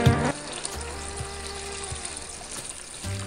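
Meat for Kashmiri rogan josh fries in a pan with a steady close sizzle, broken by a few low scraping stirs of a spoon across the pan.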